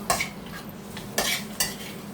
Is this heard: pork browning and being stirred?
yes